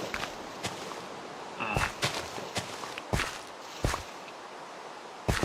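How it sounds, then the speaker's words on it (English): Game footsteps from a Minecraft character walking in the rain, a run of sharp, separate steps at an uneven pace over steady rain-like hiss, close and fairly quiet, with no talking. "My own footsteps scared me."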